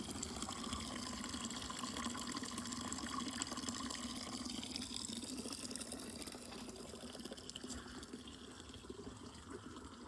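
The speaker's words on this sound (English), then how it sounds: "Beautiful water fountain." An outdoor water fountain splashing in a natural setting, a continuous soft wash of falling and trickling water, faint and steady throughout with no voices.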